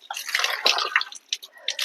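Clear natural water from a village spring splashes and trickles in uneven bursts, close and moderately loud, with no voices.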